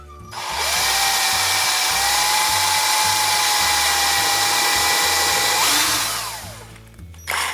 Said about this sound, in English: Try to drill in the center.